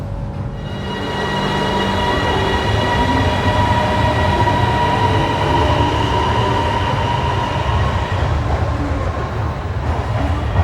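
An electric City Line train on a Thai rail line rolls along at speed, a loud continuous rumble of wheels on track with a steady tonal motor whine and faint rhythmic clatter, heard from inside the carriage with no voices.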